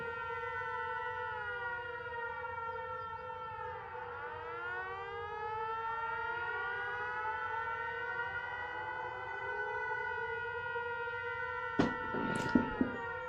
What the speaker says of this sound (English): all the air raid sirens are going off